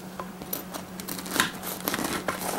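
A bread knife saws through a baked bacon cheeseburger roll-up with a browned dough crust, giving a few soft crackling, scraping strokes in quick irregular bursts, quiet and close.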